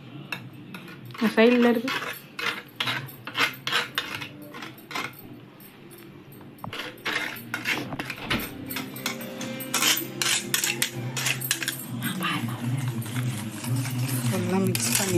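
A utensil clinks and rattles rapidly against a bowl while eggs are beaten for egg pasta, a close, busy metallic tapping that continues steadily, with a voice speaking briefly over it.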